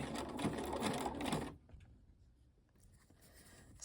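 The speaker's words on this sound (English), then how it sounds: "Position where you want the ribbons and then sew on, again using a zigzag stitch" Sewing machine running a zigzag stitch to attach ribbons vertically onto a ribbon skirt's waistband: a steady, close mechanical whir for about a second and a half, then it stops, leaving quiet room noise.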